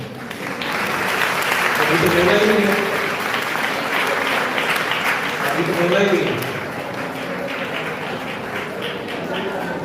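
Audience applauding during a prayer service at a church, a broad wash of clapping that swells for several seconds and then eases off, with a voice speaking over it.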